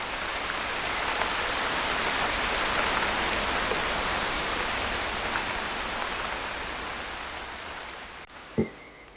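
Steady rain falls in a koala's forest during a storm, a soft, even hiss that gradually eases, ending with a brief single knock.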